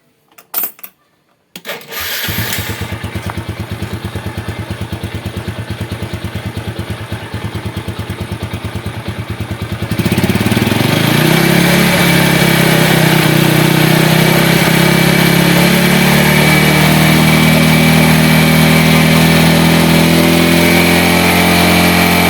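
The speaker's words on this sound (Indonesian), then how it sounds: "Kita nyalakan ya, lalu kita geber apakah dia ngecas" A Yamaha Vega ZR motorcycle engine with a new battery cranks and catches, settles into a steady close idle, then is revved hard and held at a loud, higher-pitched roar.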